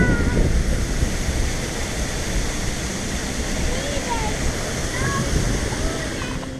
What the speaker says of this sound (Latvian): Šitais dinozaurs šļaks ūdeni.